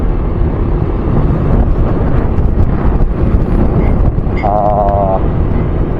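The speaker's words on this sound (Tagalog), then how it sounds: "Meron lang isang hangin." Strong wind roars and buffets the microphone continuously, a loud steady rumble throughout.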